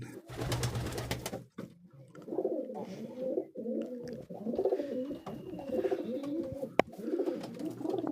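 Racing pigeons coo nearby in a repeated, throaty rhythm, several soft rolling calls after a brief burst of other noise at the start.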